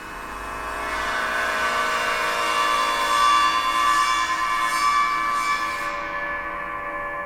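A gong is bowed across its edge, drawing out a steady, shimmering, bell-like drone with layered ringing overtones that swells gently and holds for several seconds with no talk.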